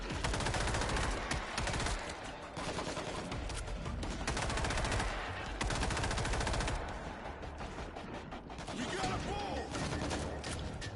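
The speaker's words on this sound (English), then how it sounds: "Two thumper shots." Thumper grenade launcher shots and heavy gunfire in World War Z on hard difficulty in New York, with dense rapid bursts and booms throughout and some voice under the shooting.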